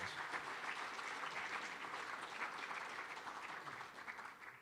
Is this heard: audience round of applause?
yes